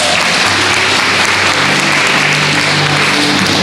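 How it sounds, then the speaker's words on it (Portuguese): A church congregation gives a loud, dense round of applause during a sermon, a steady wash of clapping and crowd noise that holds at full level throughout. "uma salva de palmas para eles"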